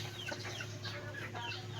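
Chickens on a Philippine poultry farm cluck in short repeated calls, a few birds close by over steady low background hum, with no talk.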